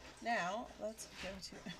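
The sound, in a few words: dog whining in the room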